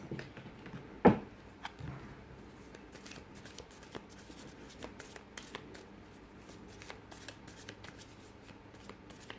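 Soft, continuous card shuffling up close, a quick flurry of riffles and slides with one louder thump near the start.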